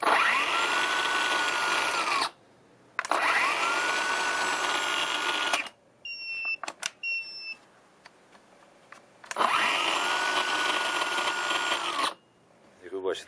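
A Narva cordless electric chainsaw, tested after a motor controller repair, runs in three loud, whining bursts of a couple of seconds each, separated by pauses with small clicks and brief high beeps.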